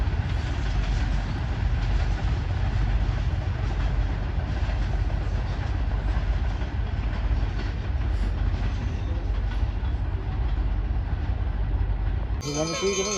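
Green Line train with locomotive GO20 4557 leading runs through Lala Musa Junction railway station, a loud, continuous rumble and wheel clatter close by, with a sharp burst of different noise right at the end.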